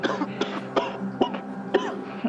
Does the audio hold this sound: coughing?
yes